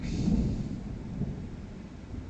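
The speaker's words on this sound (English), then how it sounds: "I like the thunder, though. It's good stuff." Rolling thunder from a storm in the video game Star Wars: Knights of the Old Republic II, a low, steady rumble that swells at the start and slowly fades, heard alone with no talking.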